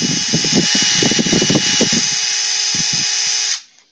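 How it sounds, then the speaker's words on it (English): A primer pocket uniformer cuts into a .223 Rem case, giving a steady high whine with rough grinding chatter for about three and a half seconds, close and loud, then stopping abruptly. "this is your primer pocket uniformer"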